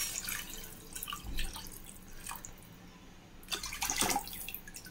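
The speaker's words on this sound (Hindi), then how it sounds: "और इसमें हमें पानी डाल देना है बहुत सारा।" Water trickles and splashes into a cooking pot of rinsed barnyard millet nearby, a steady pour that grows louder and splashier toward the end.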